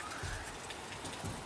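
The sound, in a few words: June rain falling outside an open window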